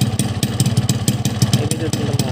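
Two-stroke motorcycle engine fitted with an LRF Pro street racing exhaust, running cold on a local two-stroke oil mix, idles with a steady rapid clattering putter, close and moderately loud, with no voices.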